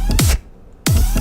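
A dubstep bass patch made in the Serum synthesizer, with post processing through saturation, EQ and a glue compressor, plays loud, heavy growling bursts with downward sweeps, cut by a brief near-silent gap.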